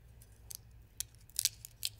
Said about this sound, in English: I'm just going to use a little tool, actually a paper clip, and we're just going to poke out the actual border design.